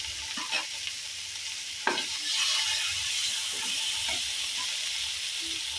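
Ginger garlic paste hits hot oil with tomatoes in a pan for Bengali egg tadka dal, giving a steady loud sizzle and hiss with a few scraping stirs of a spoon near the start.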